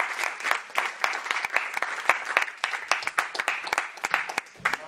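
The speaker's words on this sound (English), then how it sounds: "I will have to ask a big applause for Bassey." Audience applause after a conference talk on environmental movements, steady moderate clapping with distinct individual claps standing out, fairly close and without talk.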